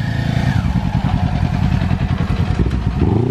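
A Kawasaki Ninja motorcycle engine revving hard during a street race, a loud continuous buzzing drone that climbs steadily in pitch without pause.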